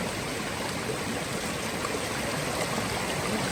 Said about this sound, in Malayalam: നല്ല ഫോഴ്സുള്ളൊരു വെള്ളച്ചാട്ടത്തിലാണ് ഇറക്കാൻ പോകുന്നത്.